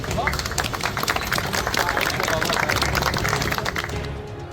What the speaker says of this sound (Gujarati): આ વાત સાંભળીને હાજર લોકોએ તાળીઓથી પોલીસને વધાવી હતી.